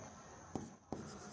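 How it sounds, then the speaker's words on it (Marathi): A pen writing on paper: soft quiet scratching with two brief sharper strokes close by, faint and without speech. "मुद्दामून मी दुसऱ्या कलरमध्ये लिहितोय"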